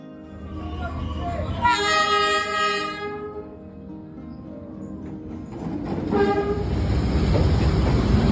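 Train on Hanoi's Old Quarter Train Street sounds a long, loud horn, then rumbles past close by with rolling wheels and clatter that grow heavier toward the end, as people talk faintly nearby.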